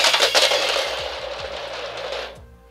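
Bandsaw blade thrown onto a floor, a loud metallic clatter that rings and jangles with several small rattling bounces before fading out after a couple of seconds.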